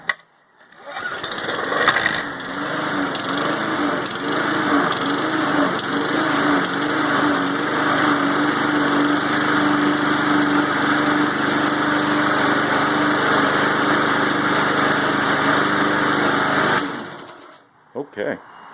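A lawn mower engine catches after a pull and settles into a loud, steady, buzzing run for about fifteen seconds, then cuts out with a brief sputter at the end.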